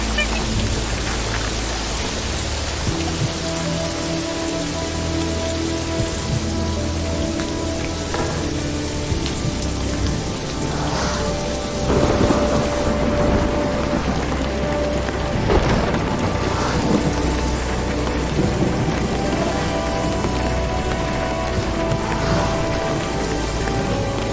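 Steady rain patters on a surface with a continuous hiss, and a low rumble of thunder rolls in partway through.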